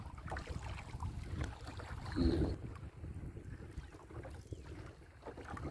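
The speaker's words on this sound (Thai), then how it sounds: "ลมแรงมากครับ ท่านผู้ชม ไม่ไหวแล้วครับคลื่น" Strong wind buffets the microphone beside a reservoir, with waves slapping against a small boat in a steady, loud roar that swells briefly midway.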